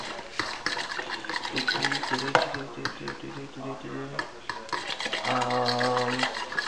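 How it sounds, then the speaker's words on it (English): Eggs beaten in a bowl, producing rapid rhythmic clicking strokes of a utensil against the bowl, close and steady, with voices in the background. "right now I'm beating the eggs"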